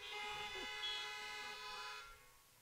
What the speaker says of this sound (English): let me hear a honk